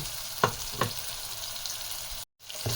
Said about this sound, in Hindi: इसमें टमाटर हम शामिल करने के बाद हम स्लो फ्लेम पे इसको मसालों को और टमाटर को प्याज को अच्छे से पकाएंगे